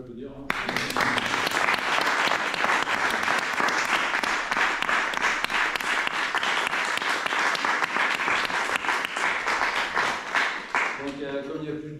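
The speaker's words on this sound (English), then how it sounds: "Bravo, vous pouvez applaudir." An audience applauds a newly conferred doctoral graduate at a university thesis defence, sustained dense clapping from a room full of people lasting about eleven seconds before tapering off.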